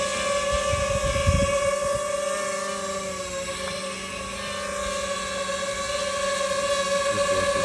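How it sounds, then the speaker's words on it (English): A DJI FPV drone flies nearby with a loud, steady high-pitched motor whine and layered tonal harmonics, dipping slightly in the middle and rising again toward the end. "What the FPV drone sounds like."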